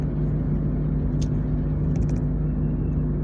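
A vehicle climbing the Thoppur mountain ghat road gives a steady, close rumble of engine and road noise with no break, and a couple of faint, brief squeaks high above it.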